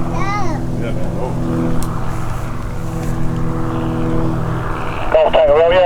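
A Saab Safir propeller airplane arrives at an airshow, its steady engine drone holding throughout while spectators talk over it nearby.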